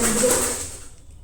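A pigeon coos briefly nearby indoors, a single soft low call that fades out within a second.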